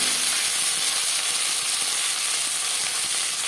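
Fish paturi wrapped in bottle-gourd leaves fries in hot mustard oil in a pan, giving a steady, loud, close sizzle and hiss that holds without pause.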